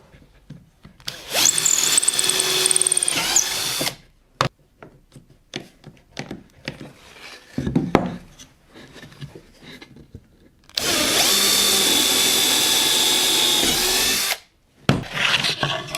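A power drill bores holes into a wooden board through a clamped template laid flush against it. Two long, loud, steady whirring runs are separated by quieter knocks and handling noises.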